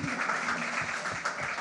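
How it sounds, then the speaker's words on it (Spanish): A school audience applauds at a new school year opening led by the head of state, a brief, moderately loud burst of clapping. "aplauso pues para ustedes. Un aplauso."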